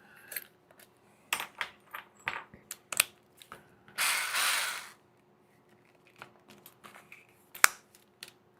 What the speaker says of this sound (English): I'm going to have to unscrew these two screws here and slide everything out